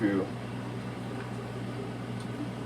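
Air fryer cooking a steak, a steady low mechanical hum and fan whir running constantly under a voice speaking nearby.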